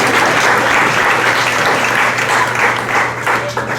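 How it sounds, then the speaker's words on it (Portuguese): A church congregation applauds together at a Sunday service, steady broadband clapping sustained throughout with a faint low hum beneath, no voices standing out. "Dê uma salva de palmas ao Senhor."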